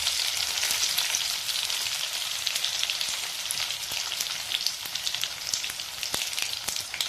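Crushed garlic with mustard seeds and cumin sizzles steadily in hot oil for a ridge gourd vegetable dish, a continuous dense frying hiss with small crackling pops throughout, close and fairly loud, no talking.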